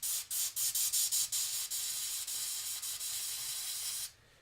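An airbrush sprays black India ink onto miniatures in short, quick bursts at first and then one long steady hiss, close and fairly loud, before cutting off abruptly into near silence.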